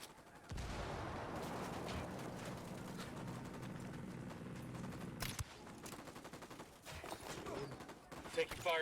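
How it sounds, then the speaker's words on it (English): Rapid gunfire rattles in a Batman video game, a long, loud burst of automatic fire that breaks off into scattered shots and clatter, with a voice faintly present. "Taking fire from the camp entrance."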